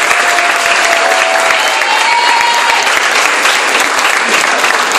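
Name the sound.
audience applause at a beauty pageant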